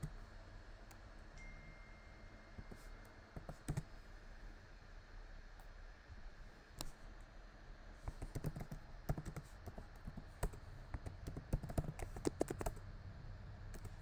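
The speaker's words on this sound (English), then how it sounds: "I'm sure I'm typing the password wrong." Fast, uneven keystrokes on a computer keyboard while a password is typed at a desk, close and fairly quiet, with short pauses and a denser burst of clicks toward the end.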